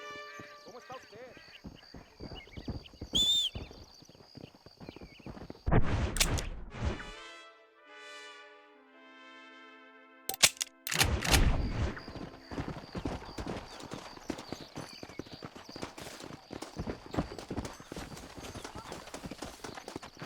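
Horse hooves clip-clop in Red Dead Redemption, a steady rhythmic patter of hoofbeats broken by a loud whinny and short gaps, with game music and occasional speech around it.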